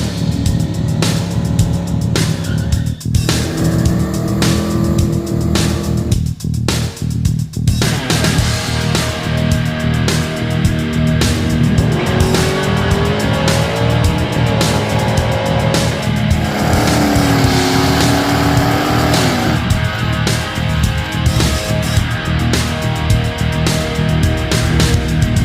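A turbocharged 460 Ford V8 in a green Mustang runs on its first start, a loud, steady rumble held for the whole stretch with rising and falling revs and whine on top, no talking over it.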